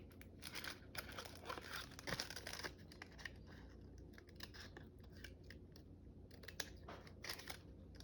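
Scissors snip and trim the edge of paper for a spring craft journal, giving soft, close, quiet cuts and crinkles in an irregular run with small pauses between them.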